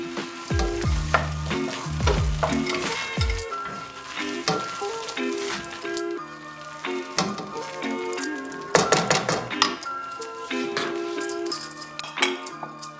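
Cashew nuts, dates and raisins are stirred in a pan for barfi, with steady frying sizzle and repeated scraping and clinking of a spoon against the pan, fairly close and busy throughout.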